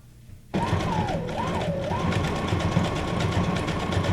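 A sewing machine stitches around a scrap of junk-journal ephemera, starting abruptly and running as a loud, continuous close-up whir with a pitched motor whine that wavers briefly.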